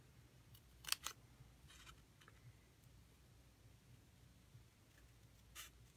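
Scissors snip paper while letters are cut out for a handmade Stampin' Up! card, making a few quiet, crisp cuts close by over a faint background hiss.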